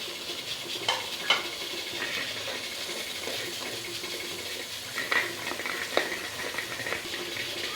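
Chicken fries with salt and red chili as it is stirred, giving a steady soft sizzle with scattered scraping clicks from the spoon against the pan, fairly quiet and with no talk.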